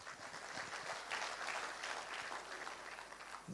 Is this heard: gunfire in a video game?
no